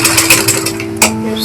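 Home sewing machine stitching fabric for palazzo pants, a steady close mechanical whir with a constant hum and a brief jolt as the stitching catches again, no talk.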